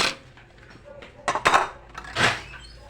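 Plates and dishes are washed after a meal, with a few close clinks and clatters of crockery and a brief scrape, and voices faintly in the background.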